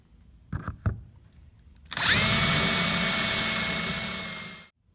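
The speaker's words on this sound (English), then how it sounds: "so I managed to drill one out" A few brief knocks, then a power drill whirs loudly and steadily for about two and a half seconds, drilling out a fastener on a Peugeot 307 SW spare tire winch carrier, before cutting off.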